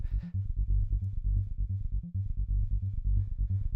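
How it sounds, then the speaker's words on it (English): A techno synth layer carries subtle distortion from a Neutron plugin, playing a dense pulsing loop with a steady rhythmic bass pattern, loud and alone with no talk. "it's adding a little bit of distortion here"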